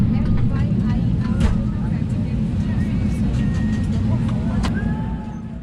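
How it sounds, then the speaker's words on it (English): An airliner pushes back and taxis toward the runway at Delhi's Indira Gandhi International Airport, with a loud, steady low engine rumble from inside the cabin throughout and occasional faint tones and chimes over it. "Pushback was right on time, and we started our taxi out to the runway"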